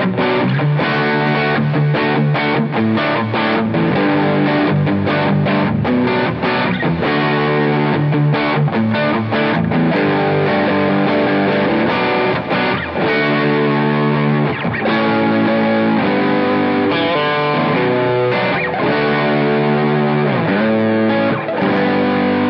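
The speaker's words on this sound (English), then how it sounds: "let's add an overdrive on top of my overdrive" Gretsch electric guitar played through delay, very light reverb and two stacked overdrives, producing a thick, sustained distorted tone with melodic phrases and chords ringing continuously and loudly throughout with no talking.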